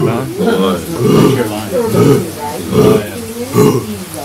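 On a Botswana safari, a person imitates a lion roar with a series of deep, rhythmic, grunting voiced bursts, loud and close, repeating roughly every second.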